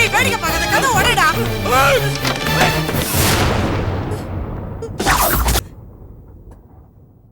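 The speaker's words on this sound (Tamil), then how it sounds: "துப்பாக்கி சரியா ஒர்க் பண்ணதானே சுட்டு பார்த்தேன்." A gun is fired indoors as a test shot during a tense scene in a Tamil TV drama, a loud sharp blast cutting through shouting and commotion, with a second burst near the end before the sound drops off.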